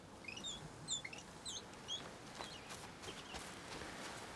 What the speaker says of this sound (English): I hear the bird.